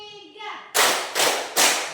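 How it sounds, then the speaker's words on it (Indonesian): A classroom group of children clap in unison three times, sharp loud bursts at a steady beat after a short lead-in of voices. "Kita tepuk ya."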